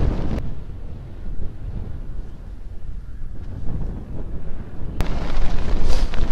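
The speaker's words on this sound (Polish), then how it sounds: "Wiatr nie daje za wygraną." Gusty wind buffets the microphone of a cyclist on a long ride with heavy rumbling roar, rising and falling in waves and growing louder toward the end.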